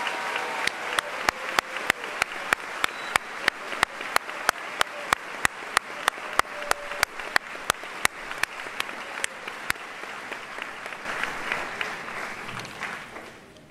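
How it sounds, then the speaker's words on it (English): Applause for students at a high school graduation ceremony, a broad crowd of clapping heard alongside sharp, evenly spaced loud cracks that repeat through most of the stretch, then the clapping thins and fades. "Please give these students and their families a round of applause in recognition of their academic achievements."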